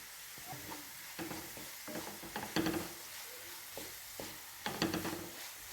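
Salted carrots fry in a pan under a soft sizzle, with intermittent stirring strokes and scrapes at close range and no talking.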